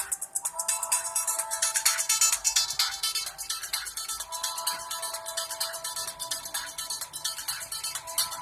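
Tinny audio from the loudspeaker of a ZTE Prestige phone playing a benchmark video, a steady bright stream of thin music that stays fairly quiet and close, with no talking over it.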